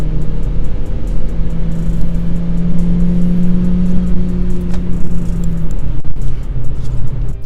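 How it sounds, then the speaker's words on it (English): An 87 hp Opel Corsa engine drones loudly and steadily at full throttle in third gear toward 5,000 RPM, a strained hum rising slightly in pitch, with road and wind noise underneath throughout. "Now I'm going full throttle."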